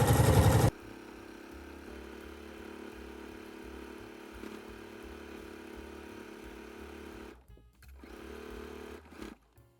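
A sewing machine topstitches a bucket hat at a half-inch seam, with a steady, quiet mechanical chatter and low rhythmic hum that runs for several seconds, pauses briefly, starts again and stops.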